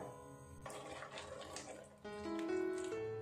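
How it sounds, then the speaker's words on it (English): Steady water pouring and splashing into a cooking pot of potato curry, faint and continuous, with a rising tone as the pot fills. "I'm adding little more water"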